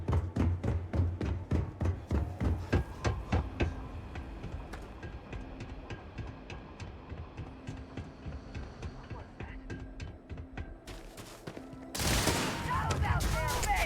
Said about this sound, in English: They look like they're firing laser shotguns or something.